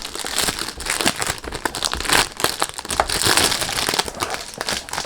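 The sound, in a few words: crinkling packaging while unboxing Al Haramain perfume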